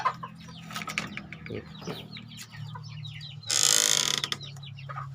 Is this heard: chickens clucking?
yes